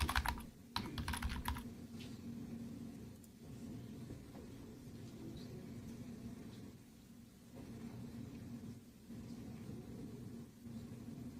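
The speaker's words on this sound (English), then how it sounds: "You're going to hear me typing now" Keyboard typing at a desk during live commentary on a courtroom trial, a brief burst of clicks at the start before settling under steady low room rumble.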